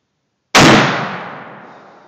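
A single gunshot fired at a pumpkin: one sharp, loud crack after a moment of silence, trailing off in a long fading echo.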